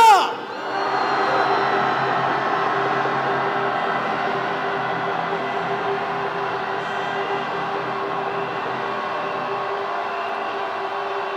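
A large outdoor rally crowd shouts and cheers together in a loud, sustained roar lasting several seconds, starting with a sharp burst and then holding steady.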